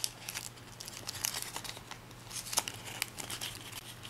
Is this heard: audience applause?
no